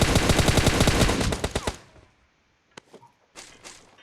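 Loud automatic gunfire in the video game PUBG on the Miramar desert map, a fast close burst of shots for about two seconds, then a few faint scattered distant reports.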